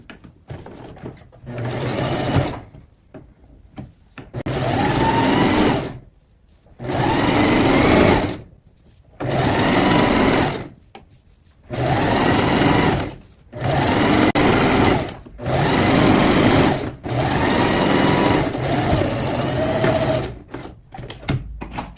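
Domestic sewing machine stitching a sweatpants seam with backstitching, running in repeated short bursts of about two seconds separated by brief pauses, loud and close, with no talking.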